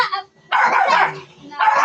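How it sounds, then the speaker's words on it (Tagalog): A dog named Pando barks in short loud bursts on a farm in Cavinti, Laguna, with a brief pause between calls and people talking nearby. "Akala ko tao yung tinawag mo. Aso pala."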